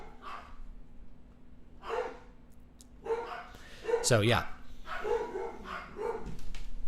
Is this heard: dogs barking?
yes